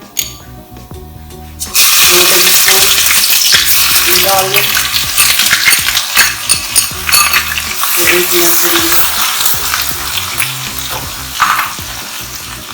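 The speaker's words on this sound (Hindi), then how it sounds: "हल्का सा फ्राई कर लें।" Garlic and ginger paste sizzles loudly in hot oil in a karahi, along with cloves and a black cardamom. The frying hiss is dense and close, with occasional stirring clinks and a brief spoken phrase at the start.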